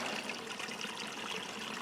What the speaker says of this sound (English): I'm going to stay right here by this little river.